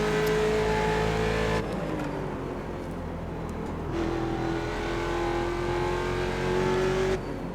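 A Ford Mustang race car in the iRacing game at Mid-Ohio, its engine droning steadily in third gear, the tone rising and falling with throttle and shifts, loud and continuous with no talk.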